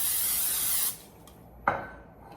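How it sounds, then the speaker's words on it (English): Cooking spray hissing from an aerosol can into a baking pan during dessert prep: one steady, close spray of almost a second, followed by a short clatter as the pan or can is handled. "the first thing we're gonna do is spray our pan"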